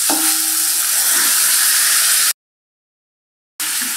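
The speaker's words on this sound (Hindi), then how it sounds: "अब इसमें हम ये बॉईल करी हुई दाल डालेंगे।" Boiled dal (lentils) poured into a hot spiced tempering for a sweet-sour Indian dal, giving a loud, steady sizzle with steam hiss. The sizzle cuts out for about a second, then resumes at the same level.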